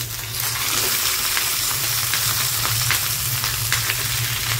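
Fish wrapped in banana leaf fries in a pan with a loud, steady sizzle, with soft clicks and shifting sounds as it is turned over.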